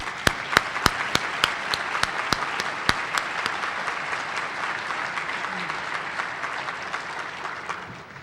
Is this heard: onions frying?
no